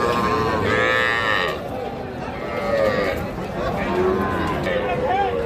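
Calves and cattle low repeatedly at a busy cattle market, with two or three long, loud moos rising over a background of crowd chatter and voices.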